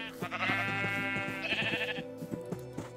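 Panicked sheep in the Minecraft video game bleat repeatedly, their wavering cries overlapping above a constant low game tone, near and clear with no talking.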